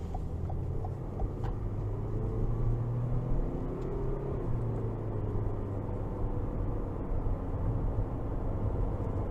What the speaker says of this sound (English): I'll give it some throttle coming out of this corner.